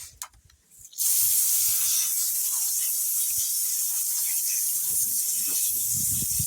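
After a brief quiet start with a few clicks, a strong steady spray of water hisses continuously against a clay-covered crystal rock being cleaned, with faint low knocks underneath.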